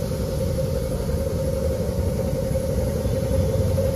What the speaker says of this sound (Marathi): थ्री सिलेंडर इंजिन आहे गाडीचे.